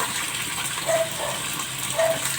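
Water gushes steadily into a tarpaulin catfish pond, a continuous close splashing rush with no talk.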